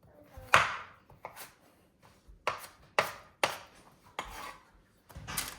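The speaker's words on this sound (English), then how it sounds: "Let's get the rest of these chopped up." Knife chopping vegetables on a cutting board for a sheet pan dinner of roasted vegetables: about seven sharp, separate chops in an uneven rhythm, close and clear, with no talk.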